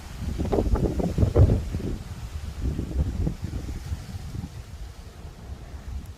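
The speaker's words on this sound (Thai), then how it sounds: "ลมแรง ลมแรง" Strong wind gusts buffet the microphone outdoors over a grassy garden plot, loud low rumbling bursts in the first seconds that ease into softer fluttering gusts, with no talk.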